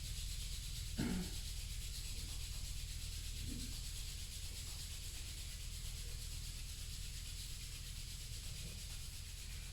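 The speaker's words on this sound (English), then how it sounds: "Now bring your palms together. Rub them." Palms rubbing briskly together during a yoga session in Ireland, a steady dry friction hiss lasting several seconds, close and fairly quiet, with no talking.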